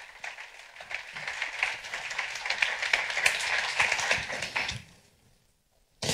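An audience at a Spanish-language event gives warm, sustained applause to welcome the speakers, a steady dense clapping that builds and then stops abruptly, followed by near silence.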